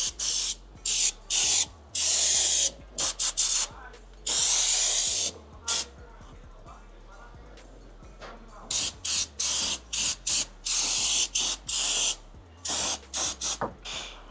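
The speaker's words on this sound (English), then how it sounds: "Now I'm going to go through with some brake clean and just clean off all of the excess fluid that spilled" Repeated bursts of brake cleaner aerosol sprayed onto a BMW M5 transmission to wash off spilled fluid, a series of short and longer hissing blasts with brief pauses between, close and loud, no talking.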